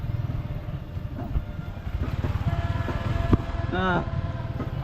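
A motorcycle engine drones steadily nearby, a low continuous rumble with faint clattering, while a voice chirps briefly near the end.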